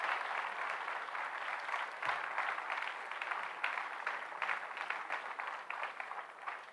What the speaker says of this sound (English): They deserve a big round of applause too.